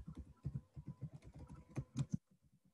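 Computer keyboard keys tapped steadily while entering a file name for an MS Excel sheet, a quick run of close, crisp clicks with a few louder strokes before stopping.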